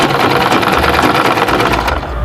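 A sewing machine stitches crinoline onto the hem of an evening dress, its loud, fast mechanical whir running continuously up close for the whole moment.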